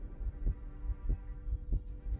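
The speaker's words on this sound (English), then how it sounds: "they have a heartbeat sound here." Heartbeat sound effect in a Star Trek: Voyager video game: four low, steady thumping beats at an even pace over a deep droning hum, close and muffled, with no talking.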